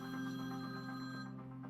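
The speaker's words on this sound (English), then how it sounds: "Client manager Val is ringing Dee with the Fredericks Foundation's decision." A telephone rings quietly in an office, a soft sustained electronic tone over a steady low background hum with no talking.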